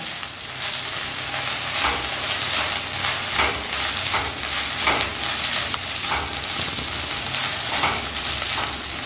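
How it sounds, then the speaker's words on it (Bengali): Ginger, garlic, green chilli and onion sautéing in a pan, a dense continuous sizzle up close with periodic scraping strokes of a stirring spatula throughout. "ভালো করে এই আদা রসুন কাঁচা লঙ্কাও পেঁয়াজের সাথে কষিয়ে নিচ্ছি যতক্ষণ না কাঁচা গন্ধ চলে না যায়"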